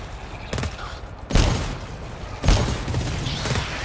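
Gunfire in the video game GTFO aimed at a big flyer enemy: a few loud, booming shots with short bursts, spaced about a second apart over a low background hum.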